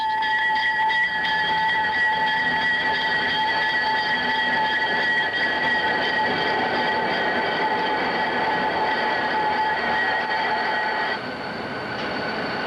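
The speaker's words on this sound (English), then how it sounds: "The locomotive does a test run through a new tunnel." A locomotive on a test run through a new Rogers Pass railway tunnel rumbles loudly and continuously, with sustained metallic wheel squeal ringing through the whole stretch.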